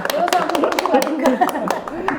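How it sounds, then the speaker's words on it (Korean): A studio audience claps a few sharp, scattered times for a sex-counseling center director on a talk show. The claps are close and come in an uneven rhythm while people keep talking over them. "박수를 한번 칠까요?"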